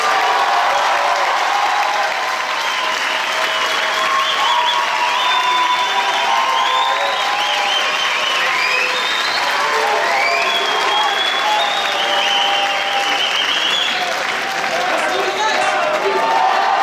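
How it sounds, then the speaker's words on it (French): A large audience at a film premiere in the Grand Rex cinema in Paris applauds and cheers steadily, with dense clapping and scattered shouts and whistles throughout. "Je lui demande de faire beaucoup de bruit pour mon binôme, Malik Bentala."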